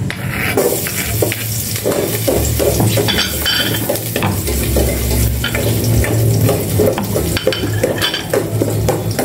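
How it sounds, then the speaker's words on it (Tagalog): Garlic sautéing in a hot pan gives a loud, continuous sizzle, with frequent scraping and clinking from a utensil stirring against the metal, heard up close and without speech. "Igisa ko na itong bawang."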